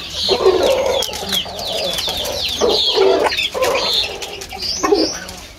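Native desi chickens kept in a cage cluck and call in a busy overlapping chorus, with bursts of higher chirping and cooing from other birds nearby, steady and fairly loud throughout.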